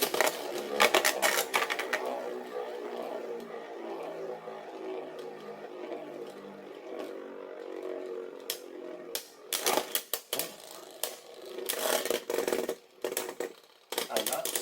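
Beyblade spinning tops battling in a cheap plastic arena: sharp rattling clacks and scraping at the start, a steady whirring spin, then clusters of loud collisions toward the end.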